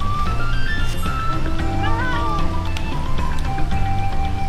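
A fat cat minion in Final Fantasy XIV meowing over game music, with cat cries rising and falling in the middle of the clip above a steady musical bed.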